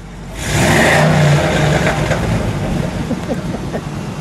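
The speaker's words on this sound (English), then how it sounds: "Step on the brakes for a moment and give it one rev" A 1960 Chevrolet El Camino engine revs up loudly nearby, holding a high roar for about a second before easing back to a rough, fluttering idle with small throttle blips.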